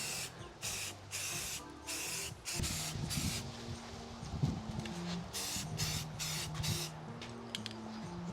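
Sandable primer sprayed in a thick coat onto a HasLab Proton Pack, heard as repeated hissing aerosol bursts starting and stopping, close by, over low outdoor background noise.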